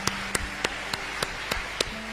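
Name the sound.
congregation applause in church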